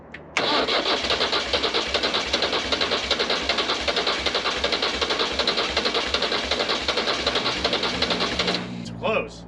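A Nissan diesel swapped into an Oliver OC-3 crawler tractor cranks continuously for about eight seconds, a loud, close, rapid starter chug that never catches before it stops.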